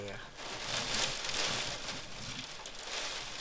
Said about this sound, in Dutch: Het is hier noodweer.